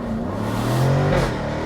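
A Jaguar F-Type R with its top down accelerates, its engine and exhaust rising in a steady, fairly muffled growl that climbs in pitch as it pulls.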